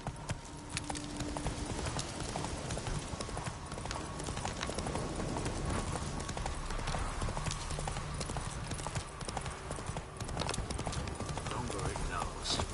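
Roach the horse galloping in The Witcher 3, a fast, steady clip-clop of hooves throughout, with voices talking over it.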